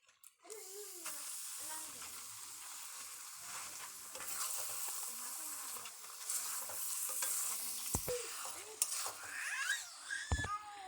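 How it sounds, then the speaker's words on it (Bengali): Freshly grated coconut from two coconuts fries over low heat in a pan as it is stirred, giving soft sizzling and scraping, with a person talking throughout and occasional higher cries. "নারিকেল দেওয়ার পর এইভাবে সুন্দর করে অল্প তাপে একটু নারিকেলগুলো ভেজে নিতে হবে।"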